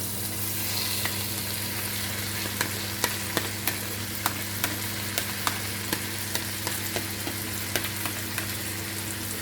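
Cabbage fries in a wok with a steady, loud sizzle, while a utensil stirs it in irregular sharp scrapes and taps spread across the clip, with no talking.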